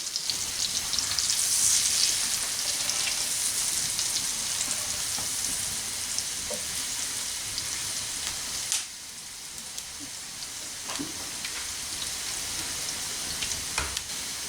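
Meat collops browning in a frying pan, a dense, steady hiss of sizzling fat close by, with a brief drop and a few light clicks partway through.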